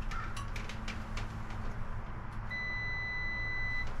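A multimeter's continuity beep sounds as the probes touch a starter fuse's terminals during a starter install, a steady electronic tone starting midway and held over low engine-bay hum, close and clear.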